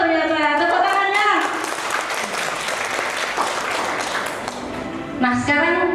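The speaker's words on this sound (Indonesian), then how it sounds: "Tepuk tangannya." An audience bursting into applause at a corporate motivator championship event, dense clapping that fills the middle of the stretch, with a voice talking before and after it.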